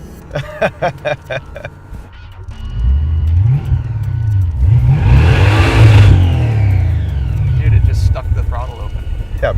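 A blown Jaguar rat rod engine with no rev limiter revs hard and close, rising and falling in long roaring sweeps after a few brief voices at the start.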